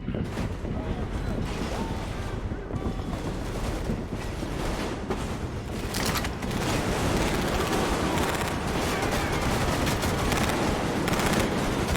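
Sustained, dense gunfire in the Metro Exodus Two Colonels DLC: loud rapid automatic bursts and heavy blasts that run nonstop for the whole stretch, with a voice talking underneath.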